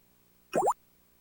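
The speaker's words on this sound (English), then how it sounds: "You will know it is time to turn the page when you hear this sound." A single short bubbly plop-like chime, a read-along storybook page-turn signal, about a quarter second long, rising quickly in pitch, then quiet.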